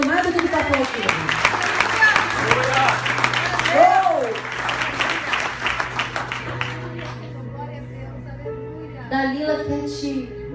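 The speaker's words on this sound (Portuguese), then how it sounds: "Aplaude ao Senhor" Church congregation applauding during a preacher's sermon, clapping mixed with loud voices and shouts throughout, the noise tapering into quieter sound with a sustained tone near the end.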